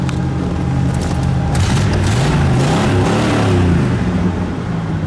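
A 1970 Oldsmobile 442 engine runs loud and close on a fast idle, its low rumble rising and falling slightly in pitch as if lightly revved, steady throughout with no talk.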